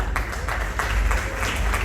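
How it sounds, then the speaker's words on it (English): An audience at a royal excellence awards launch claps to welcome a speaker, a steady close wash of many hands with no one talking over it. "Please welcome her with a big round of applause"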